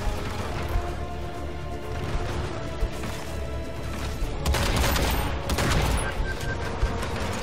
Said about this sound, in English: Such a beautiful shotgun.